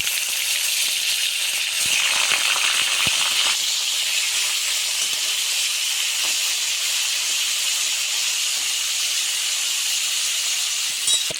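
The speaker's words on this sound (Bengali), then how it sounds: "এবার কপিগুলো ভেজে নিলাম।" Cauliflower pieces fry in a kadai of white oil and ghee tempered with nigella seeds, giving a steady, dense sizzle that runs unbroken throughout with no talking.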